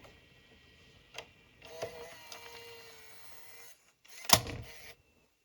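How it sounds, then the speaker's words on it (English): A 1998 ProScan PRO998LH Hi8 camcorder's tape eject mechanism: a single click, then a quiet mechanical whirr for about two seconds, and finally a sharper clunk with a short whirr as the cassette door opens. No one speaks. "Let's press the eject button."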